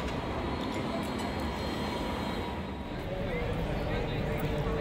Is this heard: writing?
no